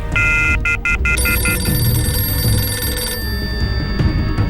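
An old-style telephone bell rings in a rapid electric trill, a few quick bursts, then a lingering ringing tone continues over background noise.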